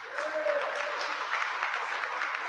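Brief audience applause, a soft, fairly distant patter of clapping from a room of listeners at a lecture, with a faint voice heard underneath.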